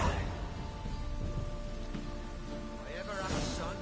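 A steady rain downpour in The Witcher 3, a dense hiss of falling drops with low rumbling underneath, continuous and fairly close, with faint speech-like tones passing over it.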